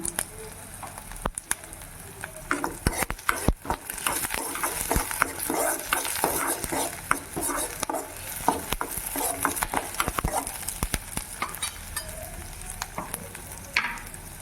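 Onions and curry leaves fry in a pan while a spoon stirs them, giving constant sizzling crackle broken by frequent clanking scrapes against the pan, close and fairly loud throughout.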